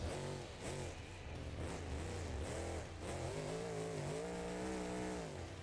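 In a truck-driving video game, an engine drones and revs steadily as the truck slides flat-track style around corners, loud and continuous with pitch rising and falling and no talking.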